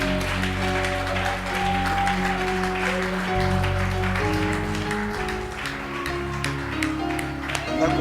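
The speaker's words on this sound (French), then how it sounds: "clapping for them" An Easter Sunday church congregation applauds a team called to the front, with the clapping running throughout over loud sustained music tones and some talking.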